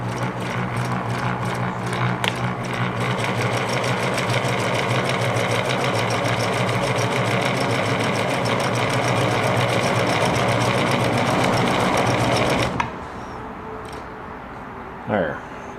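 A Singer 1036 sewing machine runs steadily through fabric on a zigzag stitch, a close rapid mechanical chatter for about thirteen seconds before stopping abruptly, followed by a brief voice.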